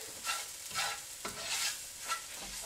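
Sugar, salt, minced garlic and minced ginger root being stirred together in a bowl, a few rhythmic scraping swishes close up, quiet and with no talking.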